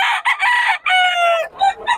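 A fighting rooster crows at close range, a loud harsh cock-a-doodle-doo broken into several bursts with a brief pause, ending in a couple of shorter clucking calls.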